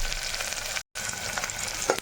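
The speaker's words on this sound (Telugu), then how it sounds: "ఇప్పుడు మనం ఉల్లిపాయ ముక్కలు వేసుకుందాము. అలాగే పచ్చిమిరపకాయ ముక్కలు కూడా వేసుకుందాము." Onion and green chilli pieces fry in a pan while cooking gongura mutton, giving a loud, steady, crackling sizzle close up, broken once by a brief silent cut.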